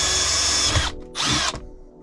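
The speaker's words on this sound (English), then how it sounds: "Let's get to drilling." A power drill whirs loudly for nearly a second, stops, then spins again in a second short burst before cutting off, drilling a hole to mount a Onewheel XR part.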